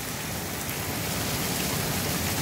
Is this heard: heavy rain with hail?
yes